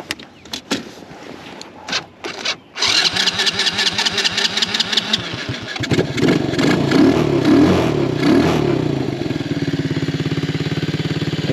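A Honda 110cc ATV engine, set up for mudding, cranks with a few short bursts before catching. It then revs loud and near with an uneven, surging rhythm, as if struggling to hold RPM.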